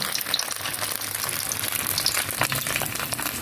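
Leftover suman rice cake frying in a pan makes a steady, loud hissing sizzle with faint crackles throughout, close by and uninterrupted.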